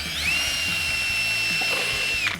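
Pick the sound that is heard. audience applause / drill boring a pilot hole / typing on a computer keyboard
drill boring a pilot hole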